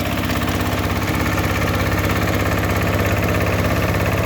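A walk-behind motor tractor with a floating gearbox runs while tilling soil, its engine a loud, steady, throbbing chug with a rapid pulsing rhythm and mechanical vibration, close and alone throughout.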